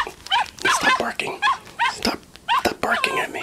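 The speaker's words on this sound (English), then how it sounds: "Stop barking at me." A dog barks and yips in quick, close bursts of about eight short calls, with a human voice mixed in among them.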